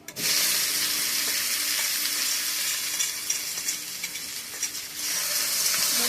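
Taro stolons (kochur loti) fry in a pan with dried chillies, making a loud, continuous close sizzle with occasional stirring scrapes.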